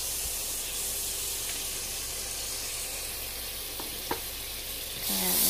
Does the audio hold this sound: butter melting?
yes